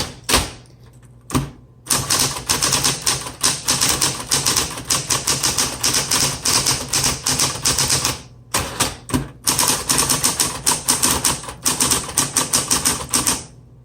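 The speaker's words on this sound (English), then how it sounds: "I'll sit down to an electric typewriter" A 1970s Smith Corona Coronet Super 12 electric typewriter types in rapid bursts of sharp key strikes, with brief pauses between runs over a steady motor hum.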